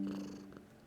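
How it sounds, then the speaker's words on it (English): Sybil the cat purring softly up close, a brief, quiet, steady rumble with no voices. "She's purring away."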